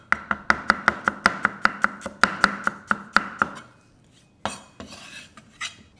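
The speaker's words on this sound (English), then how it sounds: "I'm going to do nice thin slices of ginger that I'm going to crisp into the oil" A knife cuts fresh ginger into thin slices on a chopping board, about sixteen crisp, evenly spaced taps in a quick rhythm, followed by a few softer scraping and handling sounds.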